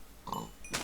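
A pig oinks in the Minecraft video game, a short low grunt followed by a brief higher squeal, faint against a steady background hum.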